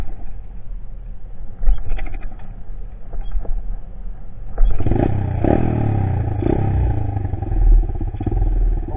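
A 110 semi-automatic dirt bike idles nearby with clattering, then revs up and pulls away, its engine staying loud and close as it rides off.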